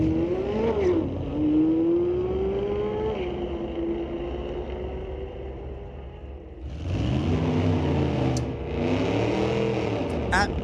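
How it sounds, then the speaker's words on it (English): A 1997 Chevy S10 drags against a Corvette on a street-legal drag strip, engines revving loudly with rising and shifting tones, easing off, then a second roaring surge of acceleration, with an announcer's voice over it. "racing a 25 Corvette."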